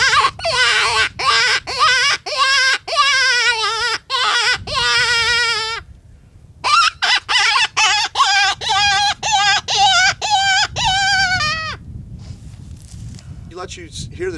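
Open-reed death cry predator call blown in a series of high, wavering squealing wails, repeated in short bursts with a pause midway, loud and close, with faint handling noise underneath.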